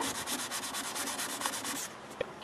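A light is sanded with 400 grit sandpaper to remove paint, giving fast, even back-and-forth rubbing strokes, close and moderately loud, which stop just before the end.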